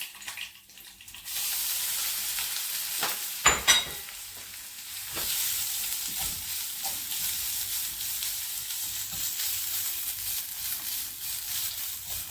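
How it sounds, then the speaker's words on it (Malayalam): Grated coconut frying in a pan for a Kerala pumpkin erissery: a steady, close sizzle starts after a quiet first second, with brief stirring scrapes near the start and no talk. "ഈ തേങ്ങ വറുത്ത് നമ്മൾ മുകളിൽ ഇടുന്നത്"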